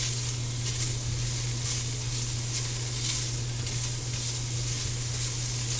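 Ham and cheesy potato soup base cooking on high heat in a pot, giving a steady, even sizzle and hiss over a low constant hum, with no voices.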